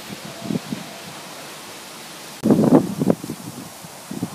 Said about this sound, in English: So it's the next day and we got some pretty good winds.